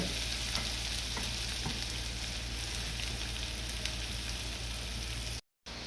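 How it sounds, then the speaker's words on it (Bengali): Onion, chili and garlic fry in hot oil in a wok, giving a close, steady, crackling sizzle that continues unbroken except for a brief dropout near the end. "আপনার পেঁয়াজ মরিচ রসুন দেওয়ার পরে এটা সুন্দর করে ভাজা ভাজা করে নিতে হবে"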